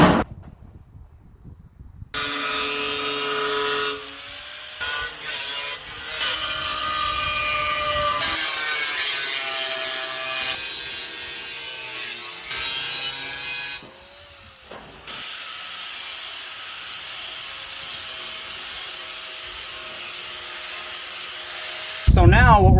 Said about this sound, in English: So let me cut down this real quick